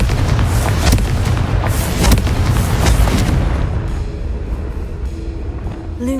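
A Confringo spell explosion in the video game Hogwarts Legacy: a loud, dense booming burst that rumbles for about four seconds and then fades into a quieter tail.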